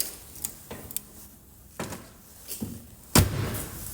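Several thuds from a 1969 Lincoln Continental's car door, capped by one loud, solid close near the end; no one talks.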